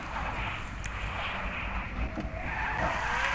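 A car in the GTA V video game drives with engine drone and a continuous tire skid and squeal, steady and fairly loud throughout with no talking.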